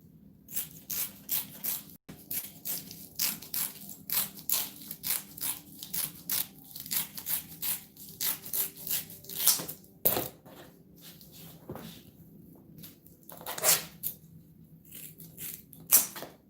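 Scissors cut through Velcro nearby in quick, repeated bursts of dry, crackly snipping and ripping. The cutting pauses briefly now and then, and a few sharper clicks stand out.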